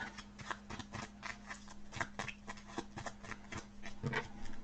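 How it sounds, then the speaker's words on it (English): A deck of AI cards for the Kingdom Death Monster board game being shuffled by hand at a table, soft repeated riffling and tapping clicks, faint and close, with no talking. "And we're going to shuffle the AI deck."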